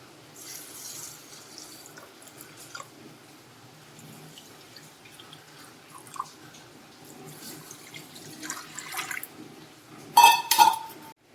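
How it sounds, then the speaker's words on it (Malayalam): Sesame seeds go into water to soak in a home kitchen: quiet trickling and light drips at close range, ending in a brief louder splash and clatter. "എള്ളാണ് അടുത്തതായി വെള്ളത്തിലിടാൻ പോകുന്നത്."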